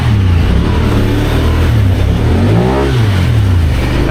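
A Honda Pioneer 1000 UTV with a new low gear reduction and portal axles revving hard in deep mud, a loud close engine drone that climbs and falls in a throttle swell.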